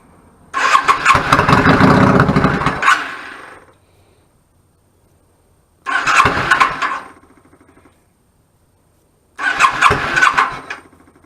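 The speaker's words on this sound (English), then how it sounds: "Now I hear the fuel pump." A 1999 Yamaha VStar 650 Classic with a clogged pilot jet, choke on, cranks three times in a row, a long grinding turnover followed by two shorter ones with silent gaps, loud and close.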